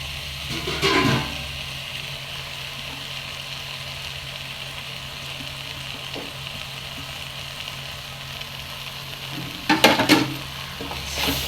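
Goan mackerel fish cutlets fry in a pan with a continuous gentle sizzle, marked near the start and near the end by louder bursts of utensil clatter and stirring; no speech.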